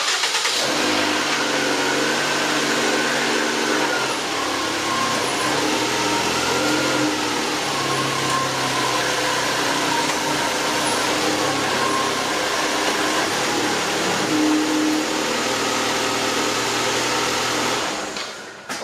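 A Ford Escape engine runs steadily nearby, holding a constant mid-pitched hum and rumble that continues for the whole stretch and then cuts off at the end, with no talking.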